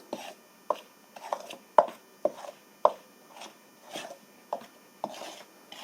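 Detergent powder ingredients are mixed by hand in a container, about ten rhythmic scraping strokes, each a short gritty rasp with brief pauses between, close and fairly quiet.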